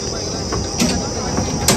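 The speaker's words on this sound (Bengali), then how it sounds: "টয় ট্রেন যাচ্ছে দেখো।" A toy train passes at the Digha seaside resort with a steady mechanical rumble, broken by a couple of brief clacks.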